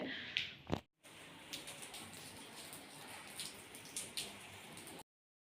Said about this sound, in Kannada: ಇವತ್ತು ಬೆಳಗ್ಗೆಯಿಂದ ಜಡಿ ಮಳೆ ಬರ್ತಾನೇ ಇದೆ